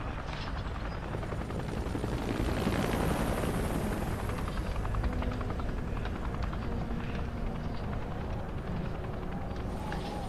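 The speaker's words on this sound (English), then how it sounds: "I think every game has ended in a helicopter escape so far." A helicopter thunders steadily through a helicopter escape in the Resident Evil 5 video game, its dense rotor and engine roar loud and continuous throughout, with no talk over it.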